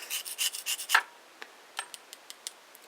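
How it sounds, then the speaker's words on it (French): Liquid Fimo polymer clay being mixed with a toothpick: a run of quick close scraping rubs, then sparse light ticks and scratches against the container, no talk. "Vous mélangez avec le cure-dent"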